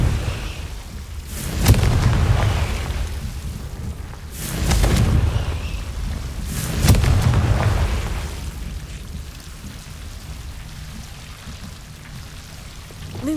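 Confringo blasting spell from Hogwarts Legacy going off as three loud, booming explosions about two and a half seconds apart, each with a rumbling low-end burst, followed by quieter ambient rumble.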